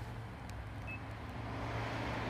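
A Mazda 6 in a video game hums at a steady low idle, with a constant rumbling drone and soft background noise throughout.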